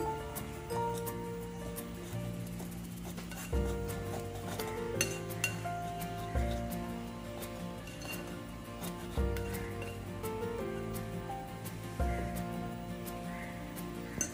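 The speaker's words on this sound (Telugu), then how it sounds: "తర్వాత విస్కర్తో ఇవన్నీ కలపండి" A whisk mixing spiced batter with oil for Gobi 65 clinks against a bowl in repeated scraping strokes, faint and steady over soft background music, with no talking.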